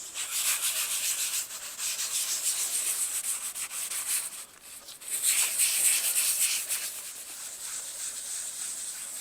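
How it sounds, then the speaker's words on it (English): Clarifying compound is rubbed by hand into a wet, faded car headlight lens, giving a close, steady hiss of scrubbing strokes in continuous rhythmic passes, briefly pausing midway before resuming, with no talking. "you want to rub this clarifying compound in for 5 minutes on each headlight"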